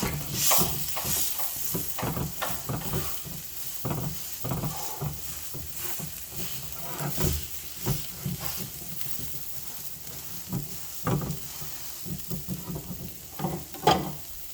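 A desi-style vegetable omelette fries in a pan with a steady bright sizzle. Small scrapes and taps break in now and then, close and fairly loud, with no talking.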